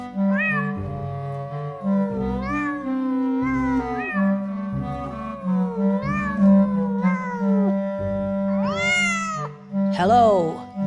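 A voice imitates a cat's drawn-out, sliding meows several times, over steady low musical notes, in a children's telling of Peter and the Wolf.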